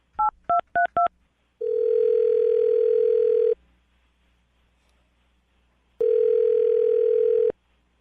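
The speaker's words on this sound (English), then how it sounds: "I'm going to dial her phone number right now." Four quick keypad beeps are followed by long steady ringback tones with a pause between them, clear and close on a phone line.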